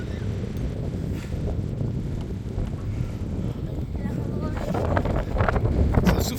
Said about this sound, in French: Petite rafale de vent qui nous arrive sur la gueule.